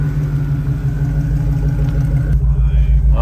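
A Chevrolet Blazer's engine idles with a steady low rumble as the ride gets underway, loud and close throughout with no talking over it.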